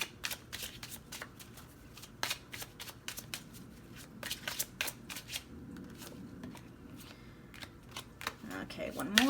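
Cards being shuffled and drawn from a deck during a pick-a-card reading, a series of brisk papery riffles and flicks close to the listener, with a soft voice speaking now and then.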